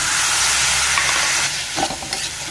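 Squid frying with coconut and onions in a pan is stirred, with a steady loud sizzle and a few scraping strokes of the spoon near the end.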